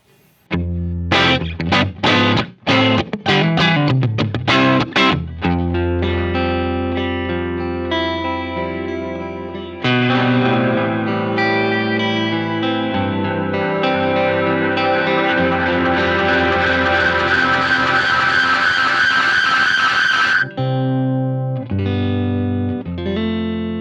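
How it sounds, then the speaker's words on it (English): Electric guitar run through a Line 6 DL4 mk2 delay pedal with heavy delay and reverb, notes repeating and piling into a sustained, swelling wash of echoes that keeps building before cutting off. "I have the expression pedal turning on the reverb and the delay volume at the same time"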